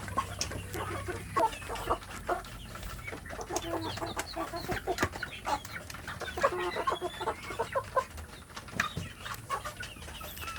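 Young Indonesian village chickens (ayam kampung) cluck steadily while feeding in a busy farmyard, with overlapping calls and scattered short squawks throughout, fairly close and continuous.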